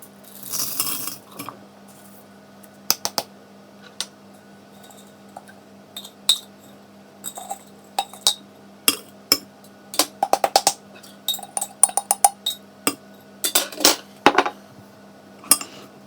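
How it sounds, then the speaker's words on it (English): Egg, butter and vanilla mixed into dough in a bowl: scattered clinks and taps of utensil against the bowl come in irregular bursts over a quiet background, with no talking. "So I just have to add an egg, butter and some vanilla, then mix everything together."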